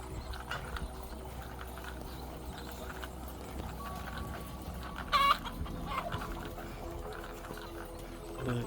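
Chickens on a chicken farm in Ghana, with faint scattered clucks over a busy low background and one brief louder squawk about midway, heard from a short distance.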